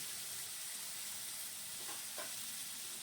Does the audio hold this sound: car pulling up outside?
no